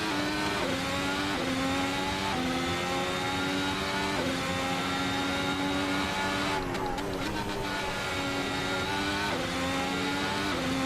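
A 2017 works Ferrari race car in Assetto Corsa on track: a loud, continuous high-pitched engine howl rising and falling through rapid gear changes, with a brief burst of tire or kerb noise midway.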